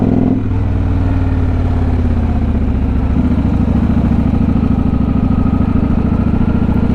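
A motorcycle engine drones loudly and steadily on a highway, a constant low rumble with dense wind and road noise and no talk.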